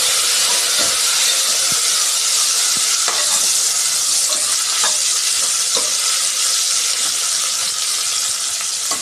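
A pan of chicken gravy curry with coriander and mint is stirred over steady, loud frying sizzle and hiss, with soft scraping strokes of the spoon repeating through the mix.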